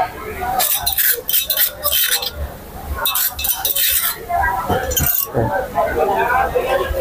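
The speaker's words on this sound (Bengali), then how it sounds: "এখন আমি এটা আলাদা একটা পাত্রে রাখবো। পুরাটা ঢেলে দিছি।" Mashed hilsa tail being scraped and poured from a cooking pan into a separate pot, with repeated metallic clinks and scrapes of a spoon against the vessels, close and loud, under someone talking.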